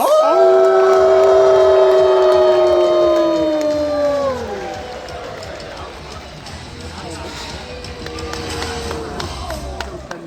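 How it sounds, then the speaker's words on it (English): Arena crowd at a robot combat fight howling like wolves, sustained loud wavering howls that slide down and fade after about four seconds, followed by lighter crowd noise and scattered voices. "Give us that howl as we welcome into the arena"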